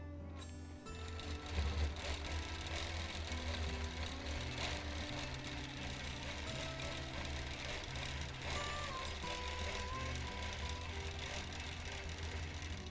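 A sewing machine doing free motion quilting runs steadily and continuously at close range, a dense mechanical hum and whir holding at an even level throughout with no talk.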